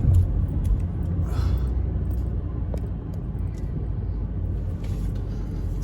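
Heard from inside, a car pulls out of a car park with a steady low engine and road rumble. The sound is close and even, with a few faint rattles and no speech.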